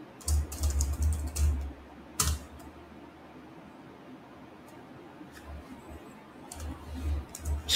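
Close computer keyboard typing comes in quick bursts of clicky keystrokes, with a sharp clack, a long quiet gap and a final flurry of keys.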